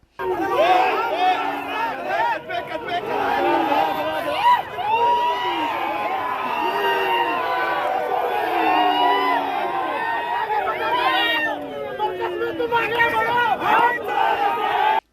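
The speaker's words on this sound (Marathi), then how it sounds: "प्रभागात भाजपच्या कार्यकर्त्यांनी फटाके फोडत आणि घोषणाबाजी करत प्रचंड जल्लोष केला" BJP party workers in a Solapur municipal ward celebrate an election victory with loud, continuous crowd cheering and chanted slogans, many voices shouting together up close.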